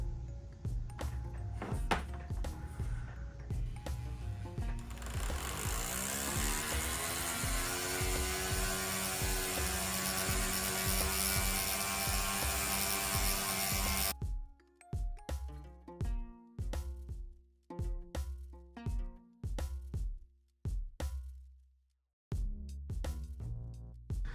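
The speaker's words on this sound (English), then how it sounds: "I'm going to start with that Dedico black knife edge wheel." A Dedico black knife edge wheel polishing a jewelry bezel on a motorized spindle: a steady whining hum that rises as it spins up and runs for about fourteen seconds, then stops, leaving scattered small clicks and taps.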